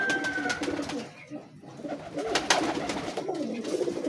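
A Teddy female breeder pigeon coos in soft, repeated throaty notes close by, with light rustling and handling noises in between.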